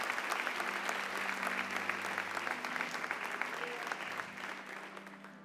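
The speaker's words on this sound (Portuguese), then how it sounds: "Pode aplaudir a Ele, meu irmão." Church congregation applauding during a sermon, a dense steady wash of clapping that fills the whole moment with a faint hum underneath, no speech over it.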